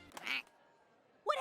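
Cartoon duck character quacking in South Park, two short nasal quacks at the start and end of a quiet moment, close and fairly loud.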